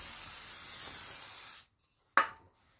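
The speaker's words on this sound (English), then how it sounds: "Take your brake clean and a clean shop towel." Aerosol brake cleaner hisses steadily for about a second and a half during a front brake pad and rotor job on a 2018 Chevy Cruze LT, stops abruptly, then a short sharp burst follows after a brief pause.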